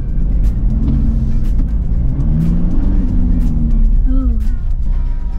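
A 2024 Toyota Fortuner SUV drives a zigzag handling test on a short course, its engine a steady close rumble with shifting pitch as it accelerates, while people talk over it.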